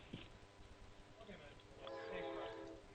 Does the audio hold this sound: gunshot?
no